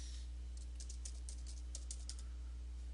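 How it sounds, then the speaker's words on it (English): Computer keyboard typing a new image name: a short run of light, quick key clicks over a steady low electrical hum. "If you click on Edit, you can type in a new name here"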